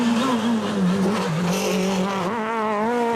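Peugeot 306 Maxi Evo front-wheel-drive race car at a hillclimb, its engine screaming loud and close, revs dipping and rising sharply through a gear change with a hint of tire squeal.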